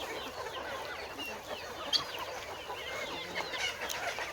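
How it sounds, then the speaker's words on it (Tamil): Sonali breed chickens cluck softly and steadily at close range, with scattered faint bird calls and no talking. "கோழிங்களை பாருங்கள் எவ்வளோ சூப்பராக இருக்குது"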